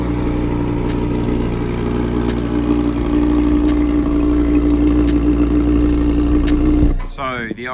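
An Audi R8 V10+ with a Capristo exhaust runs at a loud steady idle close by, a deep continuous rumble that drops away near the end.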